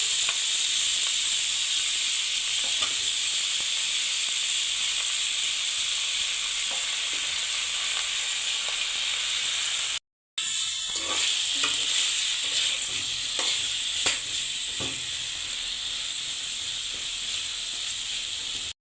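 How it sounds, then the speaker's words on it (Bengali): Potatoes fry in a pan with a steady, loud, continuous sizzle and hiss, broken once by a short silence, with faint stirring scrapes and crackles in the second half. "মিনিট করা আলুগুলা ফ্রাই করে নিব"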